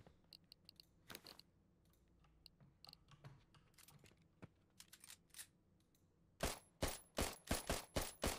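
Pistol shots in a video game built with Narrative Pro: after scattered quiet clicks and taps, a quick run of about six loud, sharp gunshots fires near the end in close succession.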